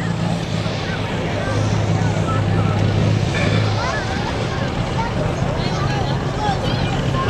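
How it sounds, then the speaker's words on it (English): Big rig truck engines race at Buck Motorsports Park, a steady loud mechanical roar filling the whole stretch with crowd noise and talk underneath. "Seems as though the worse these engines run and idle, the worse they sound, the better they go up the track."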